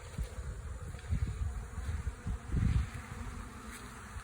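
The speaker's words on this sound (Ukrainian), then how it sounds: "І бжілка його забирає, чистить." Bees buzzing steadily around trays of honey-coated frame cappings set out at an apiary, a dense close hum of many insects with individual bees flying past louder.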